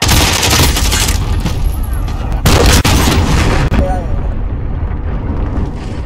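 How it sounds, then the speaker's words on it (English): A cruise missile strike lands in the Call of Duty Modern Warfare video game, a loud dense explosive roar with crackling blasts and heavy rumble, then a sharp impact followed by fading debris and ringing. "Cruise missile away."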